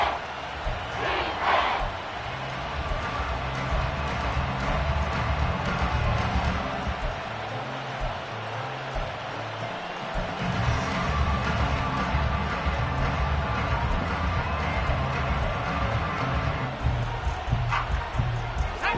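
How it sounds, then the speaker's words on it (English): A stadium crowd in a Madden football video game on PS5 roars steadily for about twenty seconds, a dense, loud wall of cheering with brief shouts rising above it and no clear talk. "This crowd turning up the decibel level."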